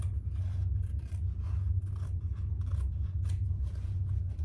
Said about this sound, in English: I'm just trimming off any excess interfacing.